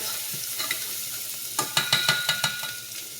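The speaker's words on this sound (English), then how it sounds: "Add the garlic, saute that." Garlic sautéing over high heat in a pan, a close sizzle broken by a run of sharp scraping stirs toward the end.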